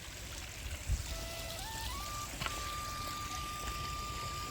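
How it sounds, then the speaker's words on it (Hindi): Steady, broadband rush of dirty drain water from factories flowing across a path, moderately distant, with a faint tonal whine drifting in the background and no voices. "इधर से देखिए नाले का पानी आता है,"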